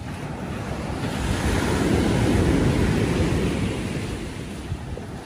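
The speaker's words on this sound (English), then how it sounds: "It's crashing around still here. Which one? These big waves." Big ocean waves crash and surge steadily onto White Beach at Puerto Galera, a continuous loud roar of surf mixed with wind buffeting the microphone, with no talk.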